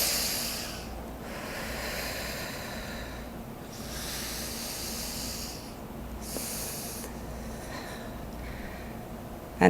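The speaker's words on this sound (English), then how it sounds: "let's try to listen to your breathing" A group of people breathes together during a sonic meditation session, with slow waves of airy inhales and exhales rising and fading in turn, fairly soft and close, with no talking.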